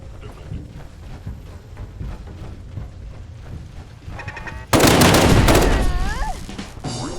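Mark 7 turret in a video game firing, a dense crackling barrage that starts abruptly midway and stays loud, with metallic whines and lower rumbling gunfire before it.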